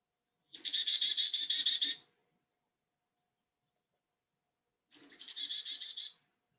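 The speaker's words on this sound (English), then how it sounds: "we have the black-capped chickadee. So I'm going to play that" Two recorded calls of a black-capped chickadee, each a rapid series of high, buzzy repeated notes lasting over a second, separated by a few seconds of silence, clear and close.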